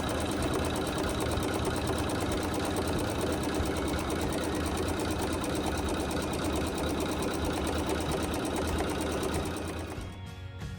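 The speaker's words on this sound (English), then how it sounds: "hit the start button, and it'll sew a zigzag to tack it in place" Close, loud embroidery sewing machine stitching a zigzag tack-down on a quilt block runs with a steady rapid mechanical whir for about ten seconds, then stops abruptly near the end.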